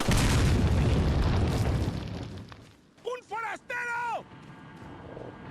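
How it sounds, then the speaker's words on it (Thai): A loud, broad bomb blast rumbles and slowly fades over a couple of seconds, followed by a few short voiced sounds, in the video game Resident Evil 4. "ตรงนี้มีระเบิดนะเราเดินเดินไปนี่กระเด็นได้นะครับ"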